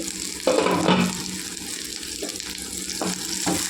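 Brinjal fries in a pan for a cucumber chutney, with a loud burst of crackling sizzle early on that settles into a softer, continuous frying hiss broken by occasional stirring clinks.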